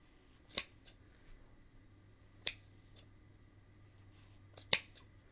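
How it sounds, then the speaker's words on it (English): Scissors snip through looped crochet yarn on a snowman coaster, three crisp, separate cuts spaced a couple of seconds apart in a quiet room. "Cut those loops open."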